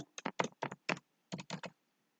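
Quick bursts of typing on a computer keyboard while entering Python code, two clusters of crisp, close keystrokes separated by a short pause.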